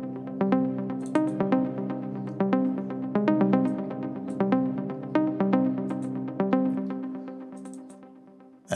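A Hive synthesizer preset in FL Studio plays Afro House chord stabs with added delay: a steady, rhythmic run of bright, layered synth hits, close and loud, with no voices.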